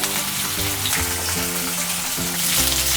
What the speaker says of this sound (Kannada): ಈಗ ಇದಕ್ಕೆ ಈರುಳ್ಳಿ ಹಾಕೋತಾ ಇದ್ದೀನಿ.